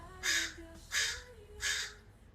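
A crow-like bird outdoors gives three loud, harsh caws in quick, even succession, close and clear above a low background hum.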